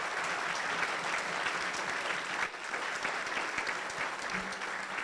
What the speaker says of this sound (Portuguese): a gente merece dar uma salva de palmas para o professor Bresser